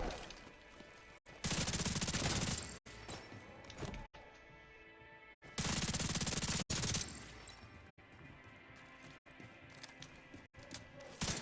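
Sustained bursts of automatic gunfire in the video game The Division 2, loud and close, arriving in several long volleys separated by short pauses, with rattling shots and game effects filling the gaps.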